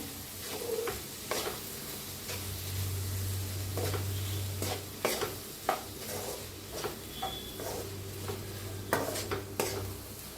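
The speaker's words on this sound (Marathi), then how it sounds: "त्यात ओतूया मटकी थोडस मी टाकूया पण मी टाकून शिजवून घेतलेलं आहे" Cooked moth bean sprouts hit a sizzling pan and get stirred. A steady frying hiss runs throughout, broken by sharp scraping clatters of the spoon against the pan, close and clear, with no talk.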